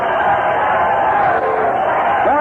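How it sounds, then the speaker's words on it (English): A baseball crowd murmurs and chatters steadily at Comiskey Park during a Red Sox at White Sox game, a dense, continuous wash of many distant voices. "We're going to get out of here with this crowd chatting here"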